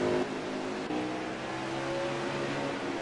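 A late model dirt race car engine roars steadily from onboard, a loud, continuous drone with a brief dip near the start.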